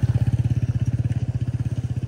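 A villagers' motorcycle passes close by on a village access track along a disused railway line, its engine a steady, loud, rapid thumping pulse throughout.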